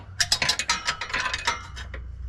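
A ratchet wrench working a fastener on a Nissan 350z drift build, rapid close clicking bursts in uneven quick runs with metallic rasping between strokes.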